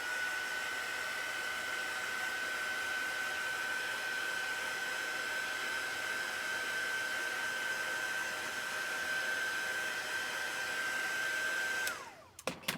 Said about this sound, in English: I'm going to quickly hit this with my heat tool.